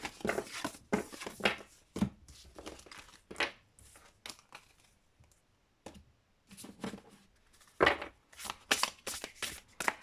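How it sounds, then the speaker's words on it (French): A deck of tarot cards being gathered and shuffled by hand during a reading, with bursts of crisp riffling and slapping interspersed with brief quiet pauses, close and fairly loud with no speech. "Alors, je reprends toutes mes cartes."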